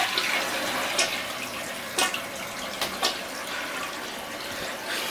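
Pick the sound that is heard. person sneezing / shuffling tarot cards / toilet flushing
toilet flushing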